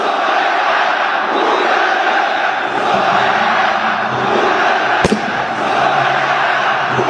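A large football crowd in a stadium roars and chants continuously, loud and dense throughout, with one sharp bang partway through.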